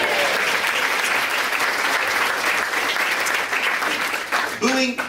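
A large audience applauds and cheers loudly and continuously, a dense roar of clapping that holds steady, with a voice rising briefly near the end.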